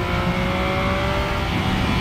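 Triumph Speed Triple RS 2018 three-cylinder motorcycle engine with Arrow exhausts, a steady loud, rough drone that holds at constant level throughout with no talk.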